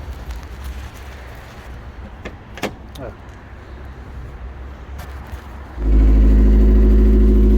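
Quiet clicks and shuffling, then a car engine with no exhaust fitted bursts into life and runs loud and raw, its rough drone filling the last couple of seconds.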